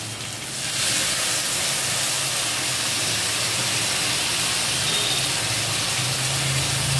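Chilli, cumin and coriander spice paste sizzles and fries steadily in a pan, a continuous close hiss with no talking.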